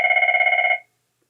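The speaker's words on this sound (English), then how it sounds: "Got the phone call there." A telephone rings once in a short, bright electronic trill with a rapid warbling pulse, loud and close, lasting under a second before silence.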